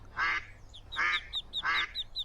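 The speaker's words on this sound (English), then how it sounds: "The duck is anxiously calling for the duckling." A duck in the game A Date In The Park calls for its duckling with three loud, evenly spaced quacks, clear and alone.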